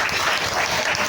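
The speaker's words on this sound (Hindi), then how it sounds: "एक बार जोरदार तालियां होनी चाहिए।" Enthusiastic clapping rises from a crowd at a Mother's Day celebration, a brief, dense and fairly loud round of applause with no talking over it.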